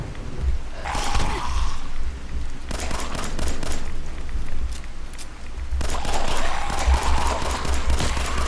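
Gunshots in the game Fallout 4 come as repeated rapid bursts of crackling fire over a constant low rumble, fairly loud, with no talk.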